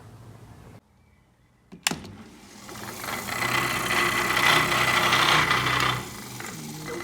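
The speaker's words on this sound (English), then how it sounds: "So far I've been using this coarse grindstone, and now I'm switching to this fine one for the blade work." A coarse grindstone sharpens a copper knife: after a sharp click, a steady broadband grinding whir builds and holds for a few seconds, then drops back to a quieter hum. No one speaks.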